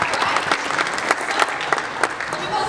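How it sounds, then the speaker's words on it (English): A congregation at a church senior service claps in a warm burst of applause, with individual sharp claps standing out from the crowd and continuing evenly to the end. "Y'all can clap for that?"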